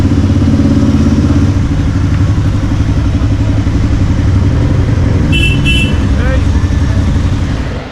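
Street traffic in Kathmandu, a loud close rumble of motorcycle and car engines with a couple of short horn toots midway, a voice speaking over the din.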